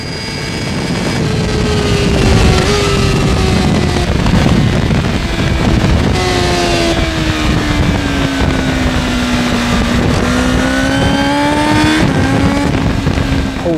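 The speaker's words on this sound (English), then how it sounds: "They make the bike sound like a world superbike in the corner." A 2024 Honda Fireblade SP motorcycle engine accelerates hard on a race track at Portimao, revving loud and close through quick upshifts as its rising whine climbs again after each change, with wind rushing underneath.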